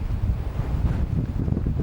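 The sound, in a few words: strong wind at Cable Beach, Broome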